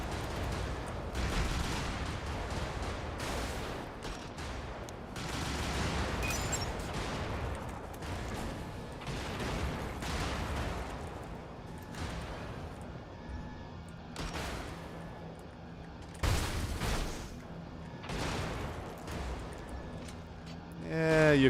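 Cannon fire and explosions crack and rumble repeatedly in the top-down mech combat game Brigador, dense, heavy blasts layered over continuous battle noise with a louder hit toward the end.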